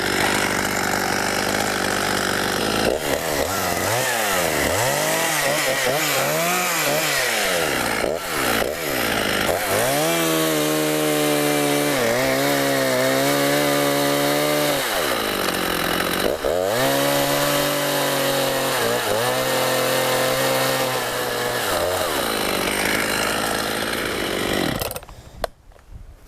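A chainsaw revs and bogs as it bites into a large windblown willow tree, its engine note rising and falling through repeated cuts, loud and close, then cutting off at the end.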